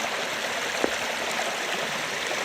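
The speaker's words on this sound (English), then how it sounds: "We have reached the first waterfall" Water from the Kirimutti Ella waterfall in Sri Lanka streams and rushes continuously, a soft, even wash of flowing water with no voices.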